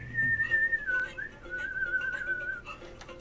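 A single person whistles a long, sliding tune in the manner of a wizard summoning his horse, close and clear over a faint background, with a low hum underneath and no talking.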